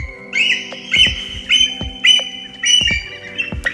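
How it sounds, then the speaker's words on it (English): A series of high, chittering bald eagle calls, several shrill piping bursts in quick succession, loud and close, no talking. "this is what bald eagles sound like"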